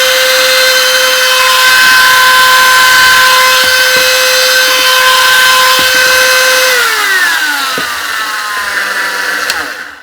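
A Hart rotary tool running at high speed gives a loud, steady, piercing motor whine that holds, then drops in pitch and winds down near the end.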